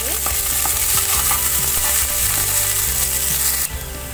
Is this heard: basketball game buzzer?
no